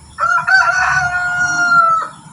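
A Shamo rooster, a tall, solid-bodied grey gamefowl, gives one loud, close crow that starts abruptly, holds a long steady drawn-out note for nearly two seconds, then cuts off.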